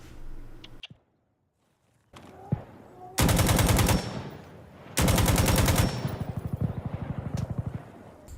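AKM rifle fire in Insurgency Sandstorm, loosed at long range as two loud full-auto bursts with a brief pause between them, then a run of quicker single shots. A quiet gap comes before the first burst.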